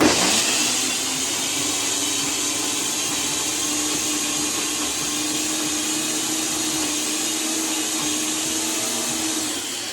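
A blender runs continuously for about ten seconds, mixing a very thick smoothie bowl blend with a steady, loud motor whine and churning roar, no talking over it.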